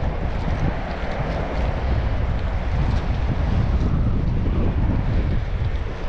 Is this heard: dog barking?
no